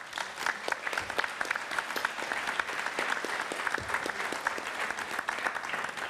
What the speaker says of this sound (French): Merci Simon, on peut l'applaudir.